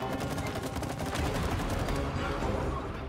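Rapid gunfire bursts in the co-op video game It Takes Two, dense and continuous, with players' voices and game audio mixed in.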